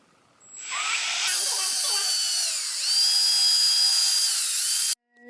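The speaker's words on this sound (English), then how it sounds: "Drill died, no battery charge." A cordless drill whirs up to a high, steady whine and runs for several seconds, the pitch wavering slightly, then cuts off abruptly to silence.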